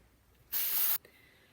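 Hairspray from an aerosol can sprayed under curled hair, a single loud, close hiss lasting about half a second that stops abruptly, followed by a faint click.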